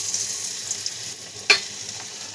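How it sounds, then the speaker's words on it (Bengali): Eggplant slices fry in hot oil with panch phoron in a pan, a steady bright sizzle with a single sharp crackle partway through and no talking. "প্রথমে আমি আগে বেগুনটা ভেজে উঠব"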